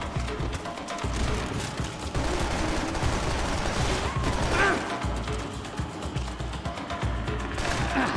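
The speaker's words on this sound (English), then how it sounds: "Who's shooting me?" Heavy, continuous gunfire in the Max Payne 3 video game, a dense loud barrage of overlapping shots and impacts with no pause.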